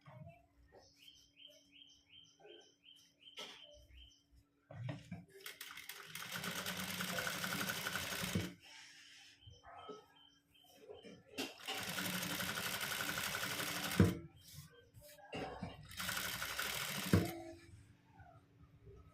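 A sewing machine stitches piping onto a garment in bursts of steady, fast mechanical whirring, three longer runs separated by pauses, with birds chirping faintly in the background.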